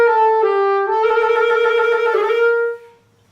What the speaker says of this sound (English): So the main issue I hear with my students playing trills is something I like to call the vomit trill